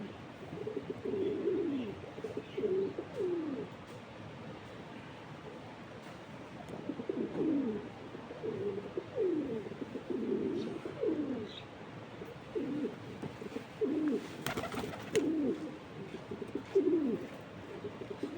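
Pigeons coo in low, throaty repeated phrases, several birds overlapping in soft bursts with short pauses between, close by and otherwise quiet.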